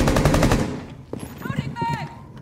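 Rapid automatic gunfire in Rainbow Six Siege, a loud, dense burst for about half a second, followed by scattered quieter shots and game effects while a player talks.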